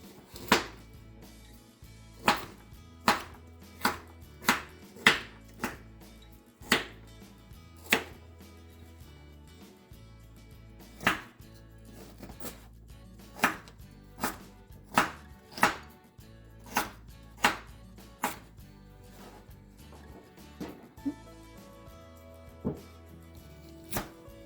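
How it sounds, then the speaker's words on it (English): Knife chopping unpeeled carrots into smaller bits on a cutting board, sharp clean knocks in uneven bursts, some quick runs of three or four, close and distinct with no talk. "I find cutting them into smaller bits makes it easier to work with later on."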